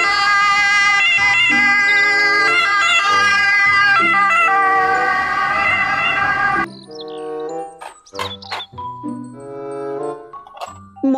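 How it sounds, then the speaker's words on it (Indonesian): Toy ambulance siren playing loud, steady electronic wailing tones for about seven seconds, then breaking into a series of short, chirpy toy jingle notes. "Mobil ambulan."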